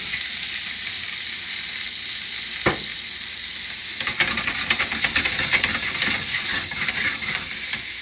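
Lamb in a pan flambéed with ouzo gives a steady close sizzle, then a sharp brief burst and a louder crackling, hissing surge as the flame catches and flares.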